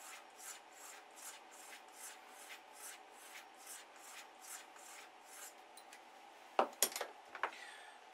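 A straight razor takes rhythmic cleaning strokes, about a dozen soft, even swipes close by, followed by a few sharp clinks of handling.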